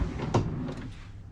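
A short wooden thud and slide as a pull-out pantry drawer opens nearby in a 2023 Newell motor coach, one quick movement followed by a brief rumbling glide.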